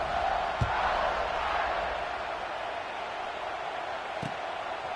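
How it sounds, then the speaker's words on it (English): Stadium crowd buzzing at a football game after a score, a dense continuous roar of many voices that slowly eases, heard from a distance with a couple of faint thumps. "this crowd is buzzing after that last score"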